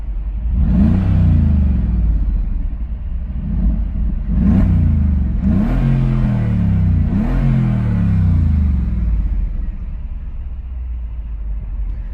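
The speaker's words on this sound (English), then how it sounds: "let's go ahead and give it some revs" A Mercedes-AMG G63 SUV engine revs repeatedly, four or five sharp throttle blips rising and falling over a steady idle rumble, loud and close, with the side exhaust near the listener.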